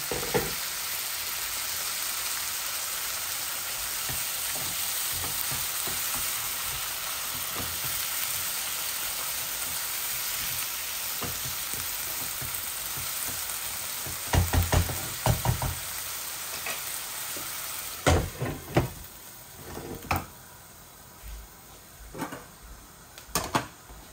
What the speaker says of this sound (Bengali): অল্প একটু গরম পানি দিয়ে দেই